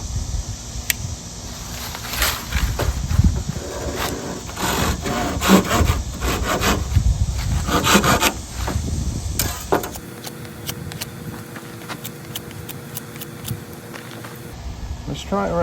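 A saw rasps back and forth through a palmetto palm frond in steady, close strokes for about ten seconds, then stops, leaving softer handling noises and a faint background hum.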